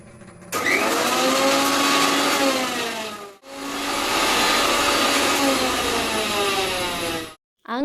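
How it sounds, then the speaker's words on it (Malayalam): A mixer grinder blends moringa leaves and stems with fenugreek water in two loud sustained bursts, pausing briefly between them, its motor pitch shifting as the contents churn. "അരച്ച് നമുക്ക് മിക്സിയിൽ അരച്ചെടുക്കാം"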